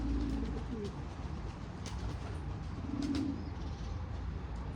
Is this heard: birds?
yes